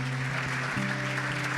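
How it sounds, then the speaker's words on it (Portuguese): Applause fills a church service, a dense steady wash of clapping from a congregation over a low sustained organ or keyboard tone, about a second and a half with no voices on top. "Dê um aplauso bonito ao Senhor"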